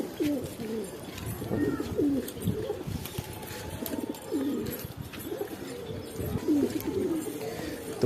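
A newly caught male and female pigeon with clipped wings coo in low, throaty rolling phrases, repeated steadily and close by, with no talk.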